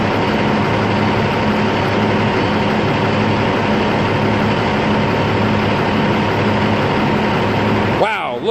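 A 1997 Peterbilt truck's diesel engine runs at raised RPM, a loud, steady low droning hum that holds throughout and shifts briefly near the end.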